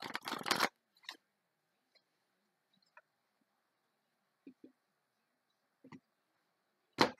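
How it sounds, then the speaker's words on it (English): A tarot card deck gives a short riffle shuffle at the start and another at the end, with faint scattered taps and card handling in the quiet between, close by and without speech. "Okay, one more, and then I'm going to cut the deck."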